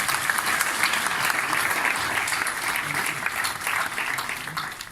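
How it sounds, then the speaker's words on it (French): An audience claps steadily for the whole stretch at a BpiFrance conference, dense sustained applause filling the room with no voice over it. "donc on peut l'applaudir"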